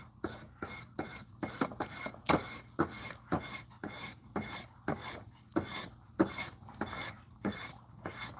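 A knife blade is drawn across a 12,000 grit whetstone with very light passes, producing a quick, regular series of soft rasping strokes, close and fairly quiet, with no talking.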